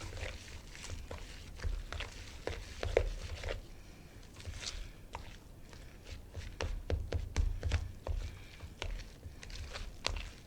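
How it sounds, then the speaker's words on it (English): Black bean burger mixture being mashed and stirred with a fork, giving soft irregular squelching taps and scrapes at close range, with no talking. "Now we're getting our fork again we used earlier. Just smush everything."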